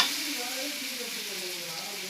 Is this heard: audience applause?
no